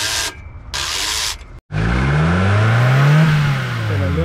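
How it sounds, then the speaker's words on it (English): A Nissan engine with an exhaust leak runs close by with a loud, rough drone that rises and falls as it revs. It comes in after a few short bursts of noise. "Got a little bit of exhaust blow there."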